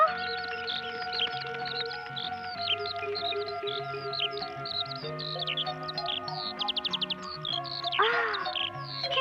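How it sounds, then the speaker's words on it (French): Small birds chirp and twitter in a forest, quick high calls scattered throughout, including a rapid trill near the end, with a soft musical score underneath. "Oh, des oiseaux!"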